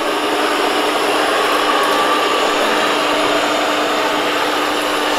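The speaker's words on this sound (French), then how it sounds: "Là, il est en train d'aspirer en même temps." An Ecovacs Deebot X1 Turbo robot vacuum sucks up spilled food including mustard, a loud, steady whirring roar held without a break throughout, with no talking over it.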